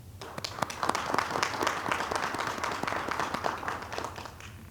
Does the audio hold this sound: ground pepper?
no